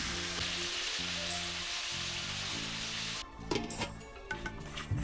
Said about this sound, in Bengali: আর এদিকে দেখো সব সবজিগুলোকে আমি কিন্তু ভালোভাবেই ভেজে নিচ্ছি।